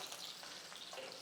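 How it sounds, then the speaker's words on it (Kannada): Green chillies frying in a pan for a boneless egg curry, a faint steady crackling sizzle with light stirring, alone and without speech. "ಹಸಿಮೆಣಸಿಗೆ ಹಾಕ್ಕೊಳ್ಳೋಣ, ಚೆನ್ನಾಗಿ ಫ್ರೈ ಆಗಲಿ."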